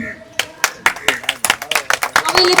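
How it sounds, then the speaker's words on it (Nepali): Audience clapping at an annual general meeting and poetry recitation event, a ragged run of close, sharp claps that builds into denser applause, with a voice speaking at the start. "सबैजनाले ताली बजाइदिनु होला।"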